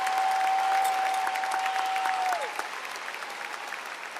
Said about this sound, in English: can we give a round of applause to our teachers, staff, and parents who made it possible for us to be here in this very Coliseum today